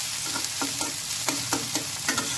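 Tomatoes and a few shrimp frying in a pan, with a steady sizzle and regular scraping strokes of a spatula, close and clear.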